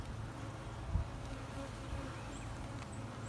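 Honeybees buzz steadily around an open beehive while a frame holding a capped queen cell is inspected, a continuous close insect drone with one brief bump partway through.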